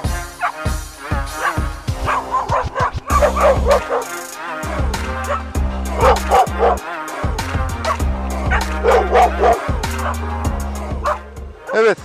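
Several dogs bark and yip close by in a rapid, overlapping series, with whimpering yelps mixed in, loud and continuous throughout.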